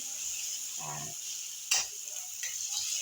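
Onions with a masala of coriander leaves, fresh ginger and green chilli fry in a pan, a soft steady sizzle close by with one sharp stir or clink near the middle.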